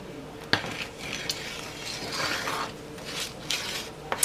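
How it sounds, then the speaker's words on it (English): A spoon scrapes and clinks continuously through thickening pecan praline candy in a pot on a stovetop, a steady close-up stirring texture marked by a few sharp utensil knocks against the pot, with no voices. "so I'm doing a continuous stir"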